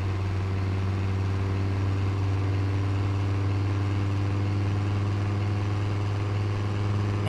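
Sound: car exhaust in video game Texas Driver Simulator

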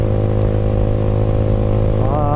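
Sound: motorcycles riding ahead on the highway

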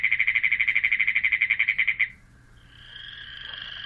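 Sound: frog calling, North Dakota frog or toad species

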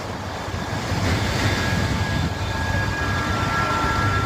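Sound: water pouring inside power station cooling tower

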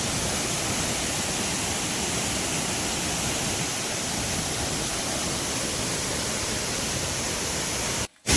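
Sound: waterfall

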